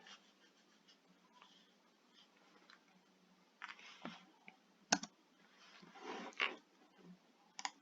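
Dimensions typed on a computer keyboard while working in SketchUp: quiet, sparse key clicks, a few louder taps and a sharp click, close and faint over a soft background.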